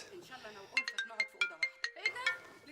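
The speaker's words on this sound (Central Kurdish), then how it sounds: "تەلەفۆن" A telephone ringtone in a Kurdish comedy series sounds as a run of bright, evenly spaced electronic beeps, close and clear, after a brief stretch of background speech.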